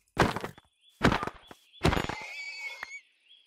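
Minecraft horses neigh in three quick whinnies in a row, the last one longer and trailing off, clear and close with no talking.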